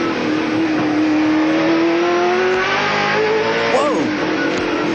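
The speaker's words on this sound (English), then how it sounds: "The old brakes and the gearbox going down through the gears." A 1997 ATCC touring car at Calder Park brakes and drops down through the gears, loud engine note falling in steps with quick blips of revs, heard over trackside commentary.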